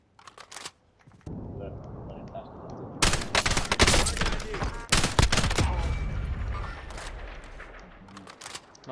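Gunfire in the video game Warzone erupts in loud, rapid volleys of sharp cracks, rising and falling in intensity over a noisy battlefield backdrop, with bursts clustered together and a few isolated shots.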